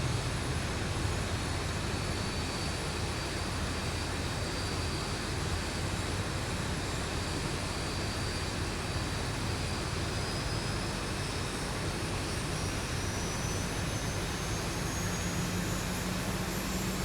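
A Boeing 737 jet engine spools up in the Zibo 737 mod for X-Plane 11, a steady, dense roar with a rising whine that climbs slowly throughout and holds loud and unbroken.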